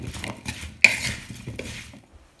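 Ingredients stirred in a Le Creuset 3.5 qt cast iron braiser, close scraping and clinking of a utensil against the pot in several strokes, one sharp clack partway, fading to quiet at the end.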